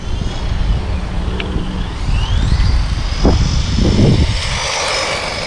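A JJRC C8811 (MJX 20208) 4WD RC monster truck runs at full throttle, its electric motor giving a loud, close, continuous whine that climbs in pitch over a rumbling drive noise, with no talking.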